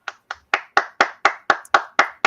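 Hand claps ring out ten times in a steady, slightly accelerating rhythm, each sharp, close and loud, with no talk over them.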